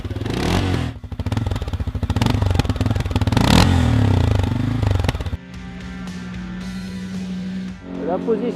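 The new fuel-injected engine of a CFMOTO CForce 550 ATV runs loudly with rough, pulsing revs and rattling clatter. It then settles into a steadier, quieter hum with a short rise near the end.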